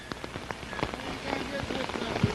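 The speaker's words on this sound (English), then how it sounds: "The rain is at its height." Heavy rain pours down hard on surfaces at its peak, a dense steady patter with scattered sharper drops throughout, loud and close.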